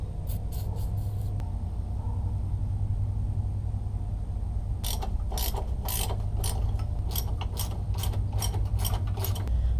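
A ratchet works a suspension bolt and nut on a Mk4 Jetta, with a few quick clicks at first, a pause, then a long run of rapid, close ratcheting clicks over a low steady hum.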